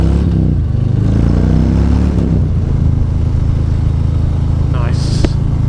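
Harley-Davidson Street Bob motorcycle engine rumbling loudly up close with heavy wind buffeting, someone talking over it at first before the engine note carries on.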